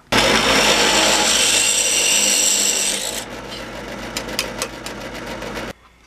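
A power drill boring holes in a metal mirror block-off plate, with a loud, steady whirring grind for about three seconds, then quieter rasping drilling with rhythmic clicks before stopping abruptly.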